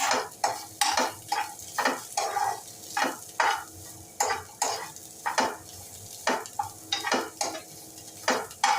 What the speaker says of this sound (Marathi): थोडंसं तेल टाकून घेऊया उभा चिरलेला कांदा घालूया छान गुलाबीसर परतून घेऊया